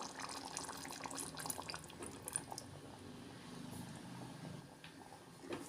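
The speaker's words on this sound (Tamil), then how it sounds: "ஒரு கால் கப் அளவுக்கு தேங்காய் பால் சேர்த்துக்கலாம்" Coconut milk poured into a simmering taro curry, a soft, close liquid trickle with light splashes and faint bubbling, quiet throughout with no talking.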